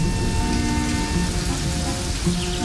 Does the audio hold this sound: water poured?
no